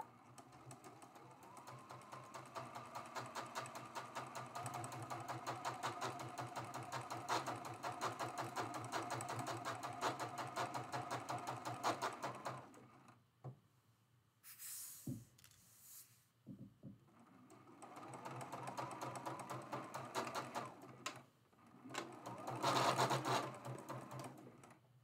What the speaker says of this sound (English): And now we can finish sewing this last seam.